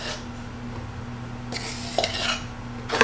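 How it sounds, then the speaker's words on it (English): Dry ingredients being stirred in a bowl for a turkey kielbasa and veggie meal prep, soft scraping swishes and a few light clinks of a utensil against the bowl, close and alone. "we're going to mix the dry ingredients really well"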